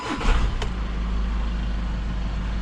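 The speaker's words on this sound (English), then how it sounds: "let's turn the car off and turn it back on again" A 2016 Skoda Octavia's engine idles steadily with a low, even hum and a brief clatter near the start, holding a constant drone close by with no voices.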